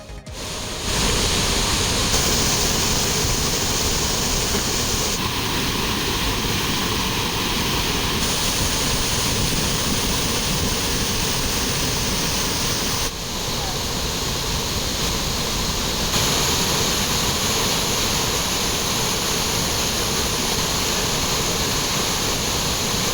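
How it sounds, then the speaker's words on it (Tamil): Thirparappu waterfall, flooded after heavy rain in the Western Ghats, roars with a dense, steady rush of water that fills the whole stretch at constant loudness. No voices are heard. "இதனால் திருப்பரப்பு அருவியில் கடும் வெள்ளப்பெருக்கு ஏற்பட்டு"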